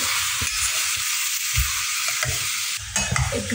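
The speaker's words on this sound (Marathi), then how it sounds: "कांदा आहे ना तेलामध्ये एकजीव होईसोवर हा मस्त असा परतून घ्यायचा" Finely chopped onion stirring and sizzling in oil for akkha masoor, a steady close hiss with soft scraping strokes of a spoon throughout, no voices.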